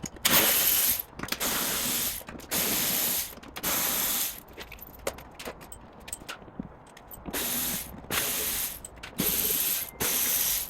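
A ratchet working on the engine under tray bolts of an Alfa Romeo Giulia or Stelvio, loud close bursts of rapid clicking repeated several times with short pauses between.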